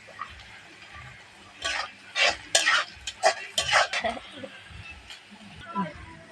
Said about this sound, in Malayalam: കാരറ്റും സവോളയും പച്ചമുളകും കശുവണ്ടി മുന്തിരിങ്ങ എല്ലാം വഴന്നു വഴന്ന് റെഡിയായി